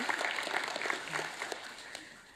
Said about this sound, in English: everybody needs another clap.